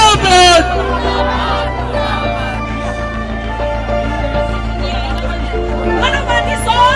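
A crowd of protesters at a street demonstration over a Dalit student's death in Jalore, Rajasthan, raises loud, dense babble and shouting under a steady low hum.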